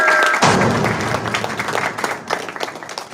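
Applause sound effect triggered from a soundboard button, a dense burst of clapping that starts loud and tapers off over a few seconds, with no talk over it.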